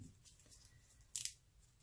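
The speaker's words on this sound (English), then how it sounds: "so then you just peel the back off" Backing paper peeled off a sticker for a handmade junk journal: one quick, close rip lasting a fraction of a second, with quiet room tone before and after.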